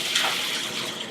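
Hot pasta water from cooked penne pours out in a steady, close, full rush of liquid with no break and no speech.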